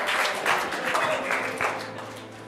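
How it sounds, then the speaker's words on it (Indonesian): Congregation at a church service clapping together, a steady wash of hand claps under ongoing talk from the pulpit. "Sambil tepuk tangan, boleh? Ayo tepuk tangan."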